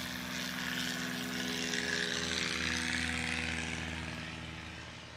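STOL bush-wheel airplane at a short-takeoff competition at Ontario Municipal Airport, its propeller engine droning and rising steadily through the takeoff roll, then slowly fading as it pulls away.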